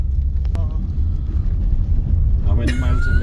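Car driving along a road in Murcia, Spain, a steady loud low engine and road rumble heard from inside, with people talking over it and a brief higher whine near the end.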